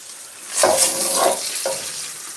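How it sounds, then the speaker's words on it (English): Onion fries in a pan, giving a loud, close sizzle that swells in three bursts as it is stirred, with no talking. "I've actually burnt the onion. Happens very, very easily in a pan of this."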